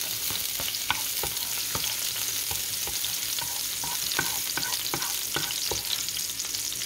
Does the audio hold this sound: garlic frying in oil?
yes